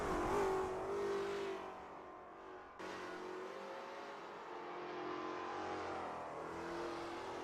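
A Lola T70 MkII Spyder race car lapping Bridgehampton in a racing game, its engine note rising and shifting through gears, with a sharp change partway through, moderately loud and alone.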